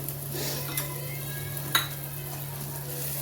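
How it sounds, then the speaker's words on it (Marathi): Ground dry masala spices frying in a pan for egg curry, a steady close sizzle with a couple of light spoon scrapes as the mixture is stirred, no voices. "परत हे फ्राय करून घ्यायचं"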